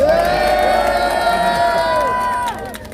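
A large crowd at a political party gathering in Seoul cheers and shouts loudly together, a sustained roar of many voices that fades toward the end.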